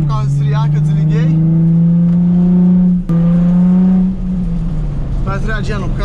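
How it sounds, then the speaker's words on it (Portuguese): A race car on a cool-down lap holds a steady, loud, close engine drone at a fairly constant pitch, with a brief click midway and voices talking over the start and end. "Dá uma voltinha pro carro esfriar que eu desliguei."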